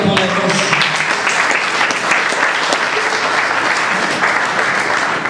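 A church congregation applauds for the Almighty during a Spanish-language sermon, with loud, dense, continuous clapping from a large crowd that holds steady the whole time.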